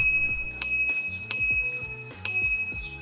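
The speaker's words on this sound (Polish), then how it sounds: "Jest tu też dzwonek, klasyczny, prosty i działa jak trzeba." Classic bicycle bell on a Molicycle R1 e-bike, struck three times in a row, each bright ring decaying before the next.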